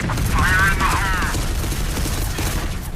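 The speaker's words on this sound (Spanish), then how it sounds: "¡Abrid fuego! Patrón de disparo Eco Alfa en esa habitación." Sustained automatic gunfire bursts roar as a sound effect in a Warhammer-style Spanish audio drama, a dense continuous fusillade filling the scene while someone shouts orders over it.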